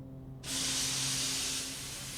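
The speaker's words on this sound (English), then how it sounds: "Thomas's brakes sound like this." Thomas the Tank Engine, a steam engine, lets out a sudden loud, broad hiss of steam from his brakes as he stops at the docks, holding steady for nearly two seconds over a low background hum.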